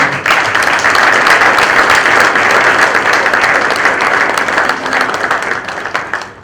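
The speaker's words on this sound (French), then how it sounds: "Je vous demande de pouvoir applaudir pour vous." Sustained, loud applause from an audience at a book launch for a law book, a dense wash of many hands clapping steadily for several seconds before tapering slightly at the end.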